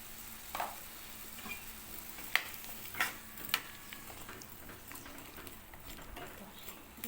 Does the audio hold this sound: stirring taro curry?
yes